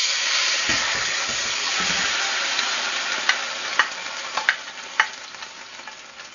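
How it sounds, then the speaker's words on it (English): Beef and its blended seasoning liquid fry in preheated hot oil for a peppered steak, giving a loud, steady, close sizzle with a few sharp pops and crackles toward the end; no one speaks. "Now that the oil has been preheated, I'll just go ahead and add the meat, including the liquid from the blended seasoning."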